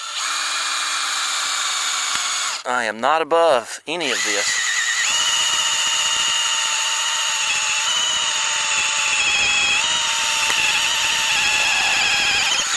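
A power drill with a bit bores into compacted soil, a loud, steady high-pitched motor whine up close that briefly stalls and revs while someone speaks over it, then keeps grinding on.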